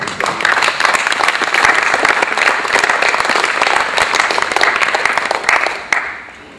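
Audience applause for the technicians at a volunteer-run economics event screening, loud and close, a full sustained round of clapping that holds steady before quickly tapering off at the end.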